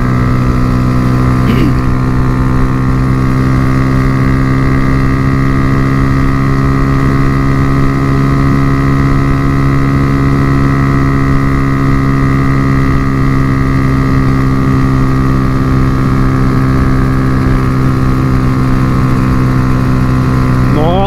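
A Honda Fan 125 motorcycle with a 2001 CDI 1000 ignition unit runs flat out on a straight road, its engine droning at a steady high pitch under constant wind buffeting, loud and close throughout.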